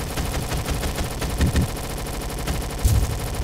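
Gunfire in a Roblox shooter game, rounds punching through walls: rapid bursts of shots with a few heavier cracks, moderately loud and continuous, with no voices over it.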